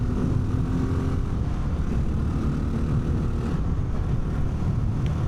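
Honda XR650L motorcycle engine on a highway, a steady loud low drone with wind roar running unbroken throughout, no talk.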